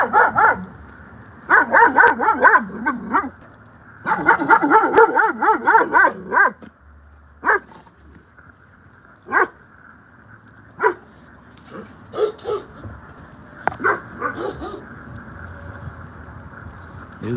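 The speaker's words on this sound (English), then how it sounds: "Oh, we got an angry dog." An angry dog barks outdoors in loud, close bursts, with rapid volleys early on giving way to scattered single barks and short pauses.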